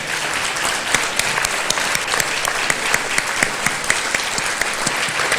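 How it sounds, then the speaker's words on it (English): An anniversary-show audience applauds a veteran in the room, a dense steady wash of many hands clapping with sharp individual claps standing out, sustained and fairly loud throughout. "please clap it for that veteran"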